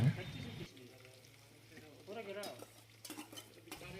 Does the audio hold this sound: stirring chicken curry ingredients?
yes